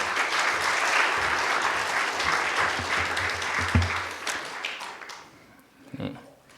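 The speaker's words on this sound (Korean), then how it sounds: "우리 박수로 목사님 환영할까요?" A church congregation at a Korean Presbyterian Sunday service claps to welcome a pastor, steady applause across the room that fades out, with a brief thump near the end.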